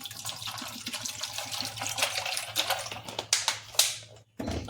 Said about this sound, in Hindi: इसमें थोड़ा सा पानी डाल देंगे।